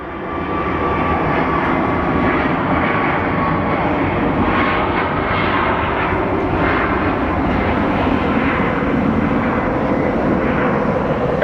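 A fixed-wing airliner landing on runway 25 left at Phoenix Sky Harbor Airport, its engine roar rising quickly and holding loud and steady for about eleven seconds with no break.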